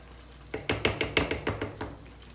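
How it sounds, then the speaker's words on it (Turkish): A spoon stirs semolina halva in a pan over low heat, giving about eight quick, evenly spaced scraping knocks up close before trailing off, with no voices. "Şöyle bir tur karıştırıyorum."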